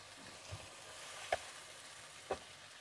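Julienned ginger drops into a pan of frying vegetable pulao, giving a faint, steady sizzle with a couple of soft clicks from stirring.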